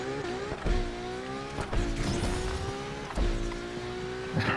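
Cars race in the video game Need for Speed Unbound, with a continuous loud engine whine shifting in pitch, occasional gear changes and thumps, and brief tire noise.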